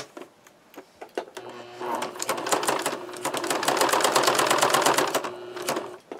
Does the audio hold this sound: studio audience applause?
no